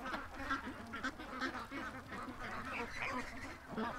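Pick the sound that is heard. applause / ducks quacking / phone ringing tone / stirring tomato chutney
ducks quacking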